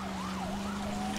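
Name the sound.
ambulance siren passing, from video game L.A. Noire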